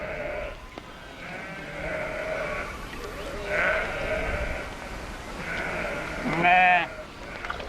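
Several sheep bleat repeatedly over a low outdoor background, the calls wavering and spaced a second or two apart, one louder cry near the end.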